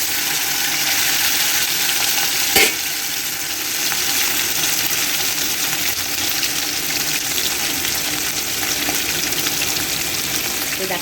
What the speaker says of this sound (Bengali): তেলটা গরম হয়ে গেছে, এবার মাছগুলো আমি একে একে ছেড়ে দেবো।